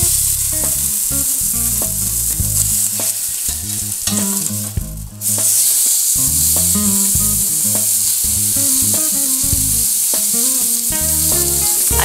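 Food sizzles loudly and steadily as it roasts in a hot pan, with clattering knocks and scrapes as pieces are flipped; the hiss briefly dips around the middle before resuming at full strength.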